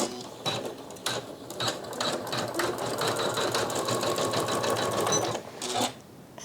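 A Janome Skyline S9 sewing machine stitches steadily at moderate speed, its rhythmic mechanical whir and clatter running close and continuous before stopping near the end.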